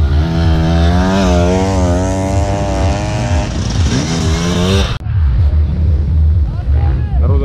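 A motocross bike at a world championship race in Turkey screams past nearby, its engine note climbing and dropping as it revs hard, then cuts to a rougher, lower roar.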